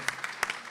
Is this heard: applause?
yes